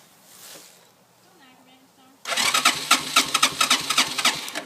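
A Honda three-wheeler engine cranks and catches after a quiet stretch with faint talk, then runs loud and close with a choppy, uneven idle and repeated revving pulses.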